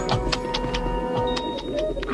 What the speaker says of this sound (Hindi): सूरज चमक रहा है, पंछी चहक रहे हैं।